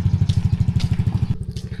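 A motorcycle engine pulses close by in a steady rapid rhythm as it arrives, loud and alone.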